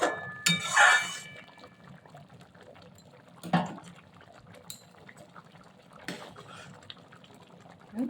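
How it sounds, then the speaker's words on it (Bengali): Gobindobhog rice simmers in milk for Bengali payesh, with soft bubbling and liquid burbles, close and fairly quiet, broken by a few louder sloshing bursts. "আবার ফুটতে থাক।"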